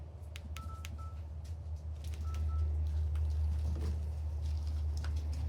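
A phone's keypad gives short beeping tones, a few separate presses heard faintly over a steady low hum, during a check of a ceramic fuse.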